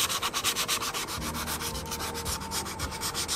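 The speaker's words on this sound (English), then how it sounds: "we're going to take some 100 grit sandpaper and we're going to lightly scuff up around the outside of it" A rapid, rhythmic scratch of 100 grit sandpaper scuffing an RV storage compartment handle, close and steady with quick back-and-forth strokes and no voices.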